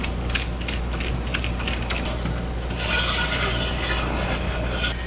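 A ratchet undoing a 10mm fastener on the automatic transmission fill cap of a 2016 Nissan Frontier SV 4x4, giving close, rapid clicking and rasping bursts that run steadily with no talk.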